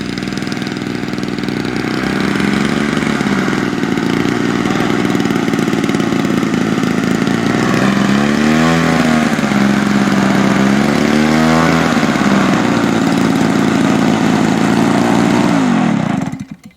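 Small glow or gas engine of a model MiG 3 airplane idling on a grass field, a steady buzzing drone with a brief wavering rise in pitch partway through, close and loud before it cuts out at the end.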